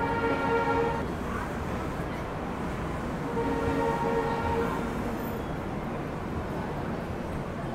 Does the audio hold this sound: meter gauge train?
yes